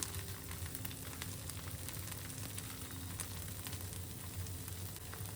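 A little oil poured around the edges of a frying vegetarian fasting dish, giving a steady, soft, continuous sizzle and crackle at low level, with no speech.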